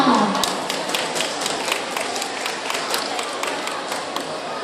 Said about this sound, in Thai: ขอเสียงปรบมือต้อนรับการแสดงชุดรวมเมตตาและเด็กไทยด้วยค่ะ